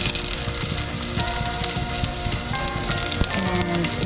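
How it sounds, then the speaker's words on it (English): Garlic and onions sautéing in a pan for a vegan Thai green curry, giving a dense, continuous close sizzle like heavy rain, with faint clinks of stirring throughout and no voices. "Going to saute some garlic."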